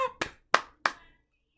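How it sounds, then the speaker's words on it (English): Four sharp hand claps ring out one at a time in a slow, slightly uneven rhythm, close and distinct against silence. "Let's start clappings. And just keep going."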